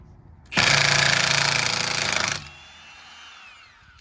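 An impact wrench in mode 2 spinning off wheel bolts on a 2019 Ford Fusion Hybrid, giving one loud, close rattling hammer burst of nearly two seconds that then cuts to a fading whine.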